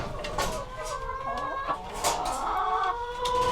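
Hen clucking in a wooden nest box inside a chicken coop, with repeated soft, close clucks and chirpy calls running steadily throughout alongside other birdlike sounds.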